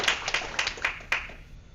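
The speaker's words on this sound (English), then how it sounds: "Let's give our students a round of applause for that" Sparse clapping at a school board meeting honoring students, a handful of distinct, moderately close claps in an uneven rhythm that fade out quickly.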